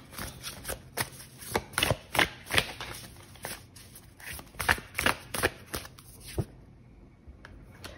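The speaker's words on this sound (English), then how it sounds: "I want to draw a card here." Tarot cards being shuffled by hand: a run of quick papery riffles and slaps, close and fairly loud, with irregular bursts for about six seconds before tapering to a quiet tail.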